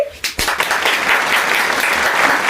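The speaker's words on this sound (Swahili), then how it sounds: "Good, makofi." A small family group at home claps together, a quick burst of applause that swells and holds at a fairly loud level for a couple of seconds.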